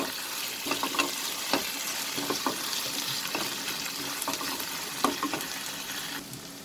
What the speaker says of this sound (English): I will cook this till the raw smell of the ginger garlic paste goes.